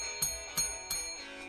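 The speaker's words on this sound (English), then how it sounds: "Got the bell." Three bright metallic bell strikes ring out evenly spaced, each leaving a shimmering, sustained tone, with no talking.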